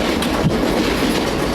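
A train rolls steadily along the rails, with a continuous close rumble and a faint rhythmic clickety-clack of wheels over track joints, unbroken throughout.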